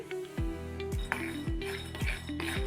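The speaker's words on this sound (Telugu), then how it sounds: "ఇలా వేయించుకోవాలి కలుపుతూ ఉండాలండి లేకపోతే పల్లీలు ఎక్కువ వేగితే మాడిపోతాయి" Roasting peanuts being stirred in a pan: a spoon scrapes and clinks against the metal about five times in a steady rhythm, close and moderately loud, with no talking.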